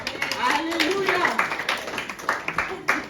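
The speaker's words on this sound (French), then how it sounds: "Est-ce qu'on peut acclamer pour le Seigneur?" Church congregation clapping and cheering for the Lord during a Sunday service, a rhythm of claps under a sustained voice, the applause strongest near the end.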